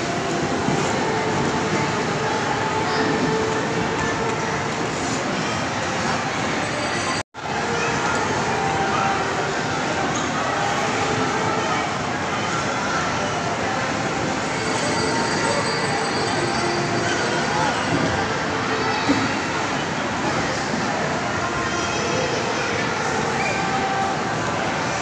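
A train bound for Bicol starts to move, rumbling steadily with continuous rail noise and faint wheel squeal, sustained throughout with a momentary dropout early on.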